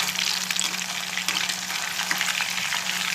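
Chicken 65 deep-frying in oil over a medium flame, a steady, dense crackling sizzle that runs unbroken throughout, close and fairly loud, with no voices.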